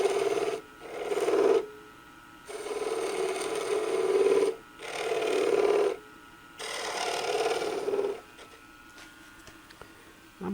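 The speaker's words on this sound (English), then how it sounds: "Now we're going to use a skew to start taking it down on each side." A skew chisel shaves a wooden spindle for a gavel on a spinning lathe, with a steady hissing cut in several long passes separated by brief pauses, close and fairly loud over the lathe's hum.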